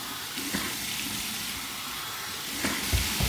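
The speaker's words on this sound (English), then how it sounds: "My warm water rinse." Warm water runs in a continuous rushing stream for a rinse, with a few louder splashes and spatters near the end.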